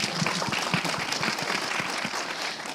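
Audience applause at an education policy panel discussion, steady dense clapping filling the room at an even level throughout.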